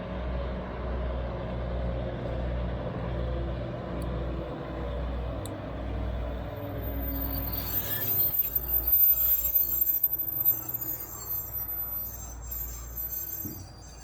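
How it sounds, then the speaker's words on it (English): Old-line train pulling into a Virginia City station, a steady low rumble of the cars building to loud, squealing, squeaky brakes partway through, heard close by with no talk. "The brakes were a little loud and squeaky,"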